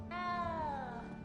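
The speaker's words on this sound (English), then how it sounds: "You don't need to be frightened, little cat." A small cat in Hogwarts Legacy lets out a single drawn-out, falling meow, close and fairly quiet, with no talking over it.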